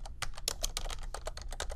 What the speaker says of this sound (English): once you type and hit enter, it'll change